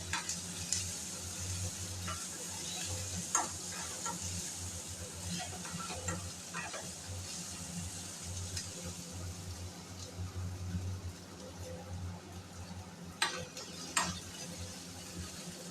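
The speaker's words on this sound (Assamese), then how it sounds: "পিঁয়াজখিনি ভালকৈ ভাজি" Chopped onions sizzle steadily in a hot pan during a live home cooking show, with occasional sharp scrapes and clicks from a stirring spoon over a constant low hum.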